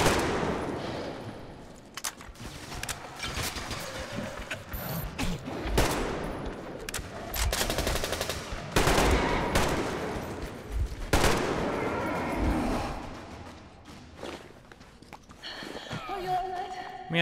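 Suppressed assault rifle fire in the Metro Exodus video game, repeated bursts of muffled shots across the whole stretch amid busy in-game action, with footsteps and voices underneath.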